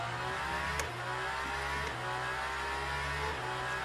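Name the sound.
race car engine from a video game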